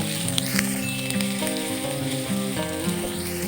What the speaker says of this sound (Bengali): 2 মিনিট সময় ধরে পেঁয়াজটাকে মিডিয়াম হিটে ভেজে নেব।